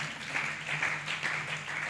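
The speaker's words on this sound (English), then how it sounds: "Round of applause." Audience applause after a panel session at a nonprofit summit in Africa, a soft, steady wash of clapping from a distant crowd in a large hall, with a low hum beneath it.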